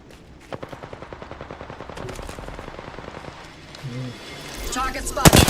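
Rapid automatic gunfire in a video game, a fast regular burst of shots that runs for several seconds, followed by heavier blasts near the end, with synthetic voice callouts mixed in.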